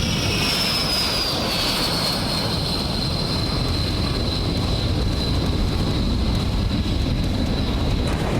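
A loud, continuous roar of a US B-1 bomber jet passing overhead, with a high whine gradually dropping in pitch.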